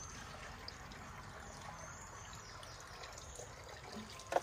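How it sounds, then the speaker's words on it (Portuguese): A thin, weak trickle of water runs from a drying well on a rural property, quiet and steady against faint background noise. "Muito pouquinha água, gente, olha."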